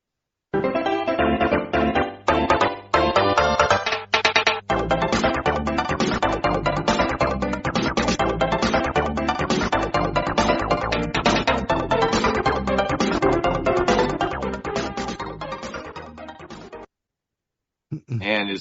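Music from the 1992 SNES racing game Super Mario Kart plays as dense, steady, busy chiptune, loud and continuous, cutting off near the end before a brief return.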